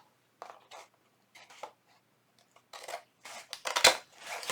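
Scissors snip through lace in a quiet room, giving a series of short, crisp cuts at close range, sparse at first and then quicker and louder toward the end.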